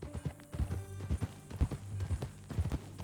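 Horse hooves clip-clop at a steady walking rhythm in Red Dead Redemption 2, close and fairly loud, with low rumbling game ambience underneath and no talking.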